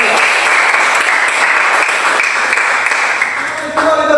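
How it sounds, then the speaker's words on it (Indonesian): Loud sustained applause from a classroom audience of children and teachers, a dense continuous roar of clapping close by that fades slightly at the end. "Kita berikan dulu aplaus kepada kita semua."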